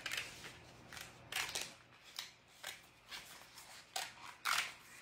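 Scissors snip through paper to cut out small printed leaf motifs, several short crisp cuts in an irregular rhythm, close and fairly quiet, with no talking.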